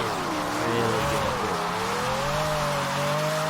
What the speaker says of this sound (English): considering it's a Formula 1 car